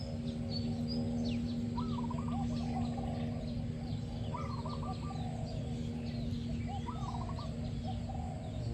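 A trained zebra dove coos in short rolling phrases every couple of seconds, moderately close, over a steady low hum and faint background chirps.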